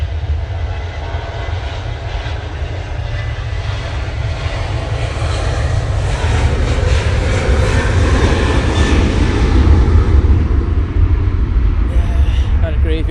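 A Ryanair airliner takes off from Manchester Airport on a windy day, a deep steady rumbling engine roar that grows gradually louder over the stretch, with voices talking over it.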